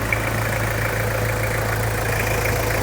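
A 2004 Toyota Kijang Kapsul LGX with a 2.4 diesel engine idles steadily, a continuous low rumble with a faint mechanical hum held at an even level throughout, close by with no talking.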